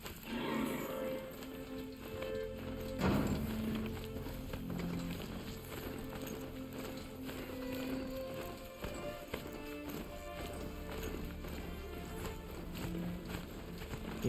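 Hoofbeats of a ridden mount in Horizon Zero Dawn, a steady rhythmic clip-clop running the whole time at moderate level over faint ambient game sound.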